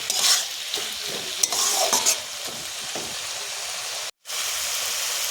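Sugar being stirred into cooking bottle gourd in a pan, a spoon scraping and turning the vegetables over a steady sizzle, with a brief cut in the sound near the end.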